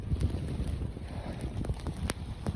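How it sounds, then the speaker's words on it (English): Intense gusting wind roars through a New York City street during a heavy snowstorm, a continuous loud rumble buffeting the microphone with no pauses and no speech. "A very intense wind."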